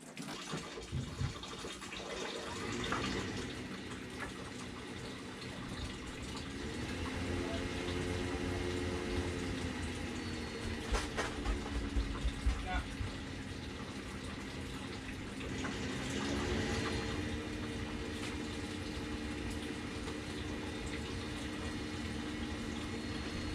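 A tankless water heater with carbon buildup on its heat exchanger gives a steady mechanical hum with water rushing underneath, the pitch shifting in waves as it cycles up and down, continuous and close.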